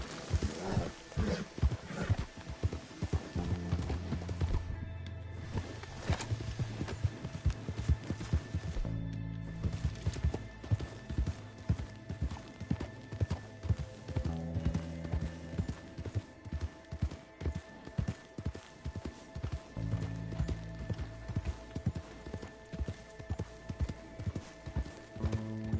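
Horse hooves clip-clop in a steady trotting rhythm through Red Dead Redemption 2 gameplay, close and continuous over a layer of game music and ambience, with the pace holding for the whole stretch.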